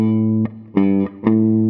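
A guitar sounds three sustained notes, G then A a tone apart, each struck cleanly and ringing with rich overtones, played alone with short gaps between them.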